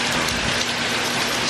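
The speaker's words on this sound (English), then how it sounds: "it is basically not stopped raining all night" Heavy rain from Hurricane Harvey pours down continuously, a loud, dense, unbroken hiss of drops hitting surfaces nearby through the night.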